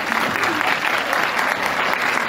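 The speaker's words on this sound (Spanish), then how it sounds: "Un aplauso." Sustained audience applause at a pastoral health conference, dense and steady clapping from a crowd filling the whole stretch without pause.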